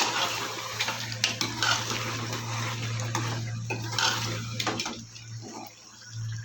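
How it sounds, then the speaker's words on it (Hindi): Broth is poured into a pot of cooking paya with a splashing, gurgling rush, and a few light clinks of metal nearby. "शोरबे का पानी डाल देंगे।"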